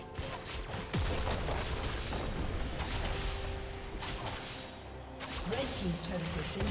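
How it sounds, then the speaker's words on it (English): A turret explodes as it is destroyed in a League of Legends match, a burst of booms and crashing debris in a busy, dense game mix, with a voice speaking over it. "Red team's turret has been destroyed"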